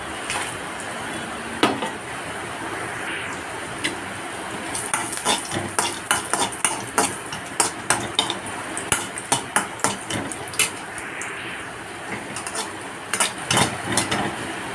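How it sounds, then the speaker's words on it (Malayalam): Ten dried red chillies roast in a pan with repeated scraping and clinking of a spoon stirring them, an irregular run of sharp knocks over a low, faint sizzle. "ചമ്മന്തിയിലേക്ക് ഞാനൊരു പത്ത് ഉണക്കമുളകാണ് കേട്ടോ എടുത്തിട്ടുള്ളത് ഇതൊന്ന് വറുത്തെടുക്കാം"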